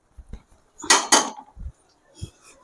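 A spoon stirring garlic rice with pepper powder in a pan, a few close scrapes and knocks of metal on metal with soft thuds between them.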